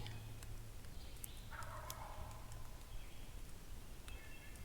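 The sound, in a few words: wild turkey gobbling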